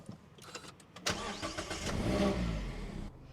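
A Mazda MX-5 roadster drives through the city, its engine swelling from a low rumble into a steady, moderately loud pull over a few seconds before easing off.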